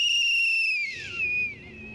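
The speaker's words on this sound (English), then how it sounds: "a whistle blows announcing the beginning of school in this part of Goma" A single shrill whistle blown to announce the start of school in Goma, one sustained loud blast that bends downward in pitch before trailing off against faint background noise.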